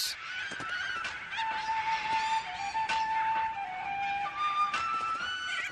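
A flock of little corellas calls in a continuous harsh, honking chorus, loud and close, with overlapping screeches throughout and no talking.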